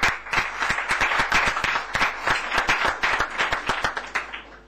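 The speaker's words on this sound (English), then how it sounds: "So once more, an applause for all the speakers" An audience applauds speakers at a lecture event, with dense, sharp hand claps sustained loudly for several seconds before thinning slightly at the end.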